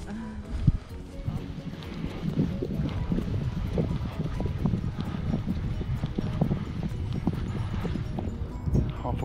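Cavalry horses gallop along a beach on the North Norfolk coast, a rapid, continuous clatter of hoofbeats over surf and wind, with someone talking over it.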